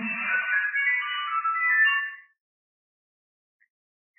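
A phone ringtone rings loud and close for about two seconds, then cuts off into silence, with no voices around it.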